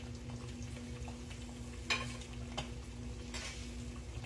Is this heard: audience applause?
no